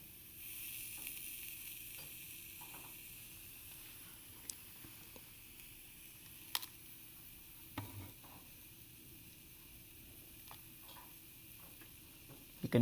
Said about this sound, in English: That hissing sound is the boiling of water inside the crystal.